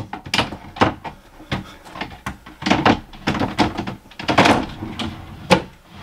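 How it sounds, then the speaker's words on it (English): An IKEA Hauga six-drawer dresser drawer is fitted onto its rails, giving a series of close wooden thunks, knocks and sliding scrapes in irregular bursts, with brief pauses between the impacts. "we can attach our first drawer."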